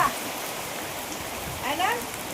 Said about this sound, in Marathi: हो काय पाऊस पडतो बघा